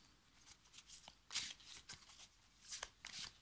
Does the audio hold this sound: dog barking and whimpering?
no